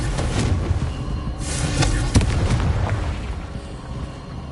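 A Confringo fire spell blasts in Hogwarts Legacy, a loud burst of booming explosive impacts with crackling fiery debris. Several sharp hits land within a few seconds over a rumbling base.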